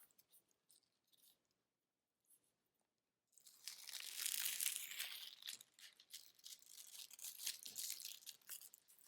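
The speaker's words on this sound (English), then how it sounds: "Then peel the backing off." Backing is peeled off a paper craft cutout up close: quiet faint ticks at first, then a sustained crinkly tearing rasp that rises and wavers for several seconds.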